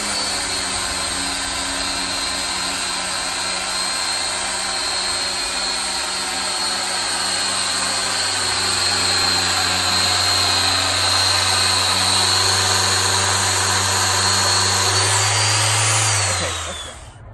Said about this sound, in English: So I'm gonna start sanding